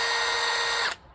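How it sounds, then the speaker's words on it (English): A power drill whirs steadily at high speed close by for just under a second, then cuts off abruptly, with no talk. "Drill time. Drill time."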